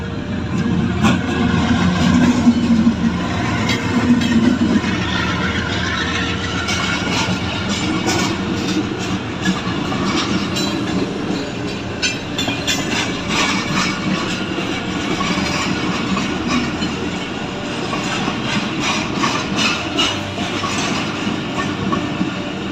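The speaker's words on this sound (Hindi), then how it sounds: "और ये आ गया ट्रेन।" A train rolls past a railway crossing gate, its steady loud rumble and rhythmic clickety-clack of wheels on rails continuing close by throughout.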